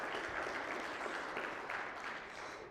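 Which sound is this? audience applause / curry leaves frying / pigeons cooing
audience applause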